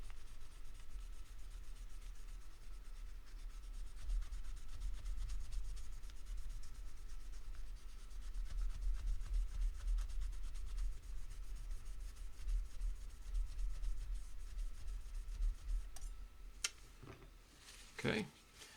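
Guitar frets are polished with the MusicNomad FRINE polishing system, a faint steady rubbing scrub up close that continues throughout, with a few sharper handling clicks near the end.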